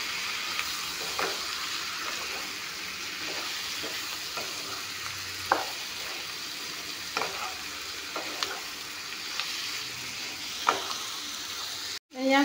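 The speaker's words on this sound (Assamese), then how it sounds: "এতিয়া চিকেনখিনি অলপমান টাইম ভাজি ল'ম, যাতে মছলাখিনি মিক্স হৈ যায়" Chicken pieces frying with spices in a pan, a steady close sizzle with occasional scraping stirs of a spatula throughout, ending in a sharp clatter.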